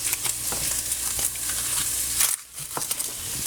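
Carrots fry in a pan with a steady, close sizzle and crackle, broken by a brief dip in the hiss and occasional stirring clicks.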